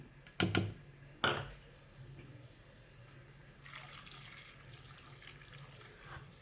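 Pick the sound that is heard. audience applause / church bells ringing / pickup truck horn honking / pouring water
pouring water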